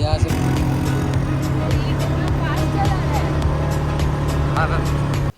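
Motor vehicle engine of an ATV ridden over sand dunes in Nubra Valley, Ladakh, a steady loud drone running throughout with a person talking over it.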